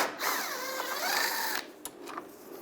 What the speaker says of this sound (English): we're going to take this screw out, use a T30 socket